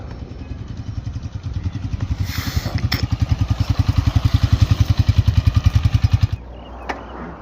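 A 2024 Honda CB 125F motorcycle idles close by, its engine chugging in an even, rapid pulse that grows louder for several seconds, then cuts off, followed by a brief click.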